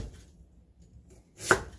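A single firm knife chop through radish on a cutting board, cut into large chunks, one sharp close thud after a quiet pause.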